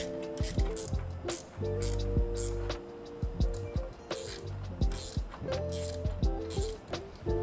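Quick ratchet-like clicks and small metallic clacks from tightening nylon insert lock nuts on the hardware of a large electric-bike basket, close and repeated over a steady tonal background.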